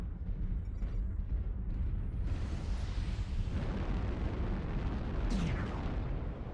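A deep rumbling explosion as a target is destroyed in MechWarrior Online, a sustained low roar with a rising blast midway and a brief sharp burst near the end.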